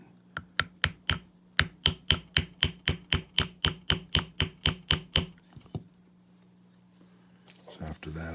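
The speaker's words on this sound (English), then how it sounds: "I just tried to hammer it open a little bit" A small hammer strikes a brass saxophone mouthpiece in a fast, even series of about twenty sharp metallic taps up close, followed by a quiet pause.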